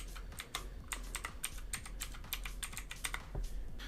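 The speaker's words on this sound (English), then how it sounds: "I could say with confidence this keyboard works great for typing" Steady typing on a Havit RGB programmable mechanical keyboard, close clicky keystrokes in quick irregular bursts over about four seconds, no speech.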